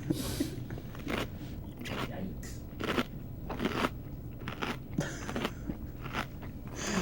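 Crunchy chewing made with a chewing sound effect, resembling someone eating chips, comes as repeated crisp bites at an irregular rhythm, close and clear, with speech in the background.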